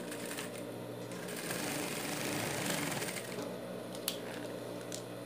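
A sewing machine stitches a dog bandana in a rapid, steady mechanical patter, running close and even for several seconds with a single sharp click near the end.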